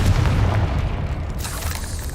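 A fire spell explosion in the video game Hogwarts Legacy, a loud, deep, rumbling boom that rolls on for about two seconds with no voices over it.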